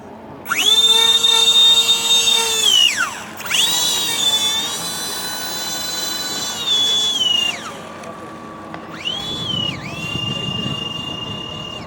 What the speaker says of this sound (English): that thing flies over you, and you just hear those motors.